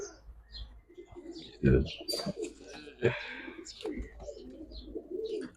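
A red Musaldom female pigeon and other pigeons coo softly among chirps and a quick flutter, with people talking nearby over the birds.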